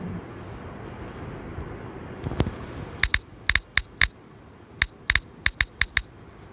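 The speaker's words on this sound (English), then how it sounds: "It's gonna be a keyboard ASMR because I'm literally saying, like, I'll type." Sharp separate keyboard keystrokes, about a dozen crisp clicks in irregular bursts after a quiet stretch of low background noise, close and fairly loud.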